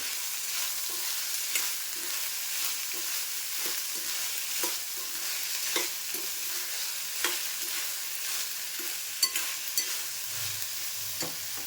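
Green peas sautéed in a pan, a continuous bright sizzle broken by frequent scraping and stirring strokes from a spoon, close and steady with no talking.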